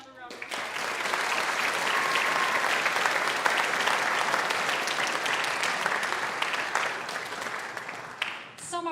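Sustained applause fills a senior awards ceremony at a high school, a dense, steady wash of clapping from a large audience lasting nearly the whole stretch before tapering off at the end.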